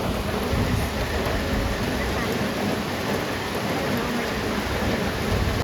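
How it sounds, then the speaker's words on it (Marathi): Steady rain pours down outdoors in a dense, continuous hiss that fills the whole stretch at a fairly loud, even level, with no voices heard. "पाऊस पडतो."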